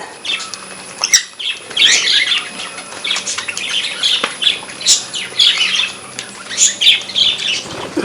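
Pigeons eating from a hand give repeated close bursts of wing flapping mixed with sharp chirps and squawks, the fluttering coming in irregular flurries.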